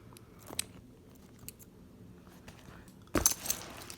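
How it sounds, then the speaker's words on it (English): Metal keychains hanging from a biker jacket, among them a skull and crossbones quarter charm and a pair of dice, jangle in two quick bursts, a faint clink followed by a louder rattling shake, with quiet pauses around them. "I got tired of hearing this ring every time I moved"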